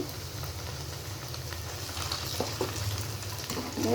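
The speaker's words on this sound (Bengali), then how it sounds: "আমি উল্টে পাল্টে কিন্তু ভালোভাবে কিন্তু ভেজে নিয়েছি" Wax gourd flower pakoras fry in hot oil, giving a steady, close sizzle and crackle that runs without a break for the whole stretch, with no voices over it.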